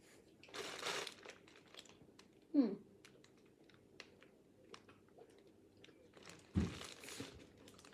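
Candy being bitten and chewed close up, with two sharp crunches standing out over softer, intermittent crackly chewing and mouth sounds, no talking.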